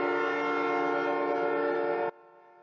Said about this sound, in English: Them trains be sucking like 2, 3, 4 in the morning and shit.